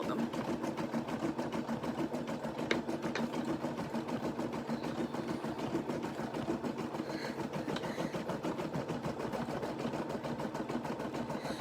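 A Brother embroidery machine stitches a design onto a T-shirt, a steady fast mechanical whir with a rapid needle rhythm running continuously at a low, even level.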